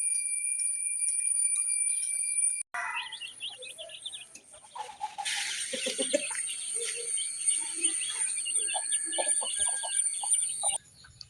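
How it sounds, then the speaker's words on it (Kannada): A chicken clucks repeatedly over a constant high electronic whine, with a burst of soft chirping calls and close, clear clucks scattered through the rest. "ನೋಡಿ, ಇದೊಂದು ಕೋಳಿ ಮರಿ"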